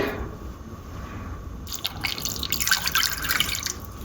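Water is poured into a cooking pan over cubes of jaggery, giving a continuous splashing, trickling pour that grows busier and brighter partway through, close and moderately loud with no talk.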